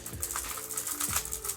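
A Xiaomi Giiker smart cube gives faint, quick clicking and rattling as its loose magnets snap back into place during a brief turn up close.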